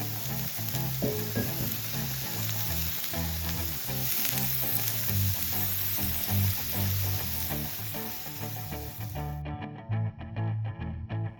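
Pearl oyster mushrooms frying in a pan and stirred, a loud close sizzle with intermittent stirring scrapes that cuts off abruptly near the end, and no voices.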